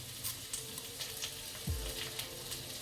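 Mustard seeds and urad dal fry in hot coconut oil, giving a soft, steady crackling sizzle with scattered small pops throughout and no voices.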